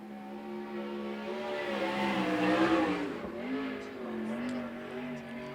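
A USAC Southwest race car runs a qualifying lap at Central Arizona Speedway, its engine a steady revving drone that swells as it passes near, then drops in pitch and carries on at a distance.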